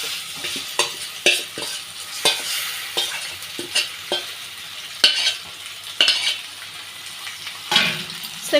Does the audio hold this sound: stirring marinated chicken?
yes